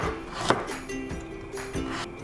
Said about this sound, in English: Carrot into thin strips too, so let's make thin slices.